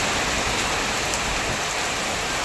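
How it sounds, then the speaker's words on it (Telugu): Heavy rain pours down in a steady, dense hiss, loud and unbroken throughout with no voices over it. "వర్షం చూడండి ఫ్రెండ్స్. ఒకసారి ఎలా ఫుల్గా పడుతుందో."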